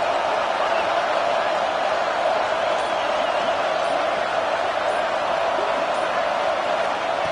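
Roaring stadium crowd noise in a college football video game, a steady, broad wash of cheering that stays even and loud throughout, with no clear breaks.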